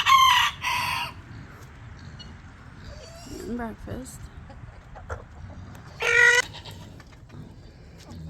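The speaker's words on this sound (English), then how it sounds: "chickens." Chickens on a farm during morning chores, with two loud, near rooster crows and softer clucking in between, while a person speaks briefly.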